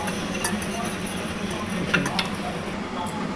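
Garam masala being stirred into melted ghee in a pot: a steady soft sizzle and scraping stir runs throughout, with a few light metallic clinks of a spoon against the pot.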